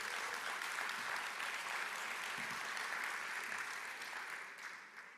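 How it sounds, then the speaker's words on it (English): A business conference audience at Invest Jamaica 2022 breaks into full, dense applause that holds steady, then gradually tapers off toward the end. "Round of applause again for Diane."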